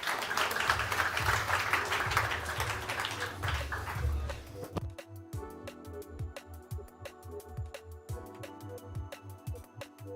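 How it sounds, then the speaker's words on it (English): Audience applause for panelists at a tech summit, a dense burst of clapping that fades out after about five seconds, followed by lighter scattered taps and a thumping beat. "Let's give them a round of applause."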